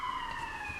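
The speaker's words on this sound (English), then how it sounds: "There's a quiet emergency, and now the siren's coming up a minute later." An emergency vehicle siren sounds as a steady wailing tone, fairly distant and continuous through the short moment, with no talk over it.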